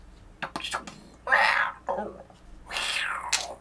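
A person imitates a cat's meow with several whispery, drawn-out vocal mews, close and fairly loud, during a solo session of the Nemesis board game.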